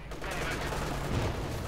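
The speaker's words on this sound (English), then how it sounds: "Infantry gunfire going up" Infantry gunfire in Company of Heroes 2, a dense continuous rattle of small-arms shots crackling without pause at moderate loudness, with a faint voice underneath.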